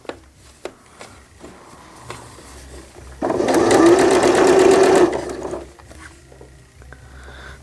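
A sewing machine stitches stretchy knit fabric for a newborn gown, one steady loud burst of whirring lasting about two seconds, with quiet handling noises before and after.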